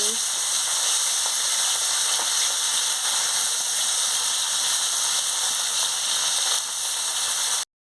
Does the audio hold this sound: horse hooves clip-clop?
no